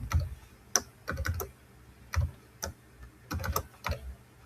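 Code being typed on a computer keyboard: bursts of quick, close key clicks separated by short pauses, with a few heavier keystrokes and no talking.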